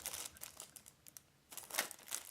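A clear plastic bag wrapper is pulled off an electric pencil sharpener, making close, quiet crinkling and rustling in a couple of bursts.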